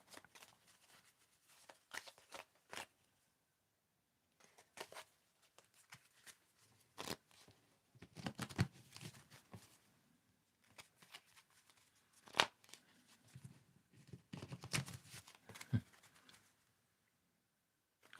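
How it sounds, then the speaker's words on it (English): Tarot cards are shuffled close up, quiet irregular riffles and soft slaps in scattered bursts with pauses between them. "Tell me when to stop shuffling."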